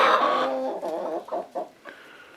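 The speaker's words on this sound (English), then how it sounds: "these buff Orpingtons, they are protective little hens" Buff Orpington hens cluck close by in a short series of clipped, throaty calls, the first drawn out and the rest quick and choppy.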